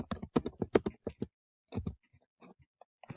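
Typing on a computer keyboard during a math lesson: a quick run of sharp clicks and taps, then a pause and a few sparser keystrokes, close and fairly quiet.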